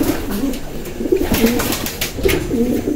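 Pigeons coo repeatedly in a breeding loft, low throaty rolling calls overlapping in steady bursts, fairly close, with no talking.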